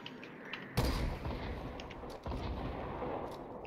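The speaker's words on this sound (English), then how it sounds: "Are they shooting at somebody else?" Gunfire in the video game Fortnite during a 3v3 battle: a sudden loud burst of shots followed by sustained rattling fire and distant booms, with a brief dip midway before the shooting resumes.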